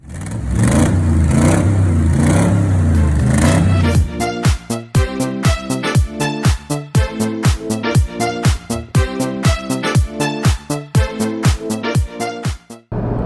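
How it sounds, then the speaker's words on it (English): A Porsche 911 GT3 of the 992.1 generation drives on an open road, first as a steady loud engine drone, then a run of sharp rhythmic revving bursts and quick gear changes close up, with no talk. "out on the open road in the Porsche GT3"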